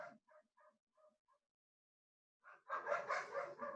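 A small dog gives several quick, light barks in a row, followed by a pause and then a louder, longer burst of yipping barks, fairly close and with no talk over it.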